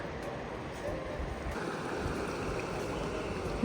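A clear river running through a mountain valley near Nagatoro, Saitama, gives a steady broadband rush of flowing water, close and continuous, with no break over the few seconds.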